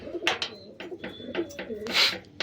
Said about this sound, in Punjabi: ਤੇ ਹੁਣ ਦਿਖਾਉਂਦੇ ਇੱਧਰ ਵਾਲੇ ਇਹ ਦੋ ਕਬੂਤਰ